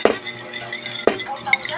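Salad mixed in a bowl with a utensil: two sharp clinks about a second apart, a lighter tap after, and soft tossing sounds in between.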